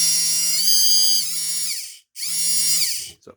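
A small motor in a vintage Kenner/Palitoy/Glasslite toy whines loudly and buzzes on a test run after a battery contact repair, running in two bursts separated by a brief stop.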